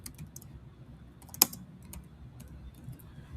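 Soft, sparse keystrokes on a computer keyboard as a ticket subject is typed, faint clicks scattered across a few seconds with one sharper tap near the middle, no voices.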